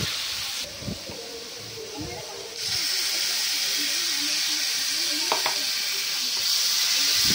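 Paneer sizzles in oil in a kadhai, a loud continuous hiss that swells after a few seconds, with faint clinks and a voice murmuring early on.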